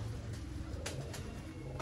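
A pigeon coos softly in low, repeated throaty calls, faint and somewhat distant against background noise in a pigeon flyer's setting in Pakistan.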